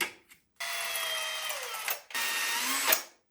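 A power drill whines in two short bursts near hard rocks, close and fairly loud, with its pitch sliding under load in the first run.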